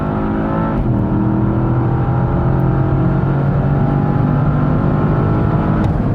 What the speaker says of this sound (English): the way this big sedan, you know, and heavy sedan handles here on the racetrack is absolutely incredible